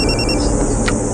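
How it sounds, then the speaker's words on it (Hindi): A phone rings with a short electronic ringtone, two-tone beeps in the first half then a brief chirp, heard over a steady low background hum at an evening party. "लेकिन अचानक तब हमारे क्लाइंट का मुझे कॉल आया"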